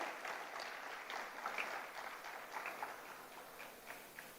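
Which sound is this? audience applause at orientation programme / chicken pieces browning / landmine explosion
audience applause at orientation programme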